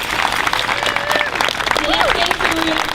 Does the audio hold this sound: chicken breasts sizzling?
no